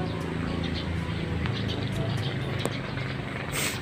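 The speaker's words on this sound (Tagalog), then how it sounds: "Jet fighter yun eh." A jet fighter flies overhead at a pigeon race arrival in Masbate City, making a steady, loud broadband roar that fills the whole stretch, with faint voices underneath.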